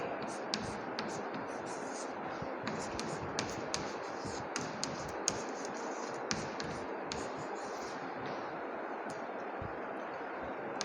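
Pen scratches across paper as a multiplication is written out during a maths lesson, a close, quiet stream of short strokes and taps with a few soft clicks and no talk.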